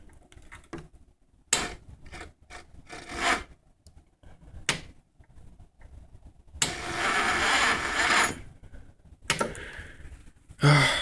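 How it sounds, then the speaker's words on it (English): A 150cc GY6 scooter engine cranks over and over without catching: several short starter bursts, then two longer cranking runs, close and fairly loud, with no voices. "So here, I'll try to start it again so you can get a better,"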